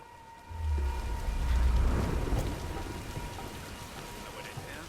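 Steady rain pours during a storm in the Tomb Raider video game, with a low thunder rumble building early and then fading under the constant hiss of rainfall.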